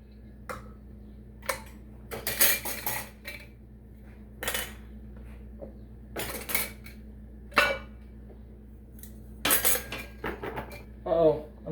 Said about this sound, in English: We are going to go ahead and put the lids on each one